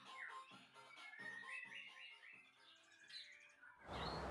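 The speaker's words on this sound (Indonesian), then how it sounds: "Biarkan murai batu trotol mandi sepuasnya." An oriental magpie-robin (murai batu) fledgling chirps repeatedly in quick bright bursts while bathing, close and clear, with a splash of water at the end.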